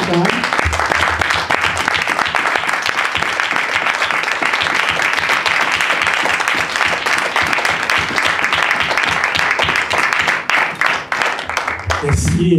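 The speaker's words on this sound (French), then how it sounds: "Une main d'acclamation à la parole de Dieu" A church congregation applauds steadily for about twelve seconds, a dense, loud wash of clapping that fades out at the end.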